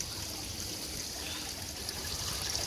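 Water trickling and draining back down from a homemade gold wash plant with a sluice box, a soft, steady, continuous stream with no break.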